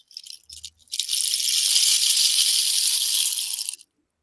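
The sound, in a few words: homemade shaker rattle filled with lentils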